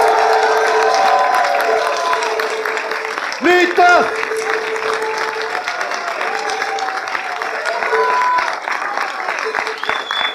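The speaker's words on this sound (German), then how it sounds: "Und jetzt geben den Dreichler ganz einen lauten Applaus!" A crowd at an outdoor political rally in Wangen claps loudly for several seconds, with a loud voice shouting over it and scattered cheers mixed in.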